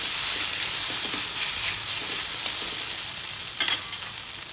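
Mashed potato cutlet mixture cooks in a frying pan with a soft, continuous sizzle and a few light scrapes from stirring, moderately loud and without any voices.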